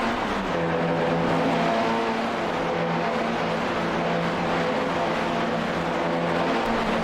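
WTCR touring race cars at the Race of the Netherlands roar together in a dense, continuous engine drone that stays loud and even throughout, heard from a distance with a faint pitched whine under the noise.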